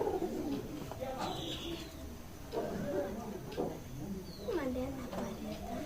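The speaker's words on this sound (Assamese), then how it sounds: "তাৰপিছত এই পাৰ চৰাও আছে দেই" Pigeons at a homemade wooden pigeon house on a rural family homestead in Nalbari, Assam, giving soft repeated coos and calls close by, with a person talking over much of the sound.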